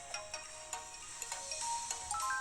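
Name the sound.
phone ringing in a video game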